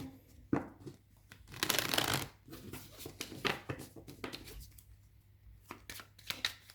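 A Belline oracle card deck being shuffled by hand, a run of close riffling and sliding card bursts with brief pauses between them, alone with no talk.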